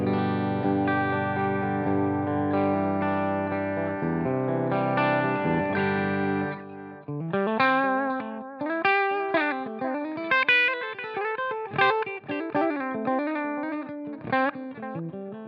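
Clean electric guitar through an amp on its cleanest setting playing sustained chords, then picked single notes and arpeggios, with a touch of delay and chorus-like shimmer, no voices.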